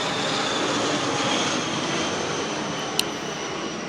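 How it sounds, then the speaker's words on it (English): A jet airplane passes overhead near Santa Monica airport, a loud, steady broadband roar that holds for several seconds with no voices, broken only by one brief sharp click. "let's wait for the airplane to go over"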